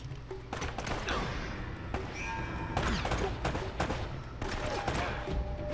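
Gunfire from Uncharted: Drake's Fortune, repeated loud shots in quick bursts over a dense game soundscape of thuds and impacts.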